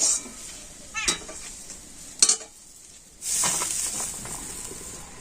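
Vegetables for a stuffed bread filling being stirred and fried in a pan: a low sizzle with two sharp metallic scrapes of a spatula, then a louder burst of frying hiss near the end, no voices.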